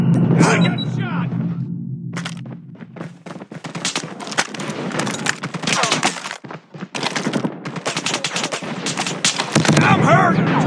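Dense, loud bursts of automatic gunfire and single shots in the Call of Duty Mobile video game, rapid and continuous with brief gaps, mixed with game voice callouts and a player talking.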